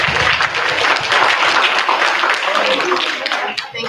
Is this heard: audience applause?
yes